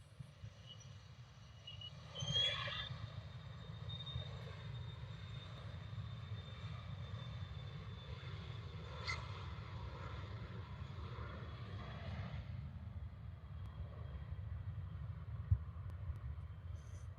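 Airplane taking off from Liverpool Airport bound for Manchester, a steady low engine roar that swells briefly early on and then holds at a distance, with wind and rain noise beneath and no talking.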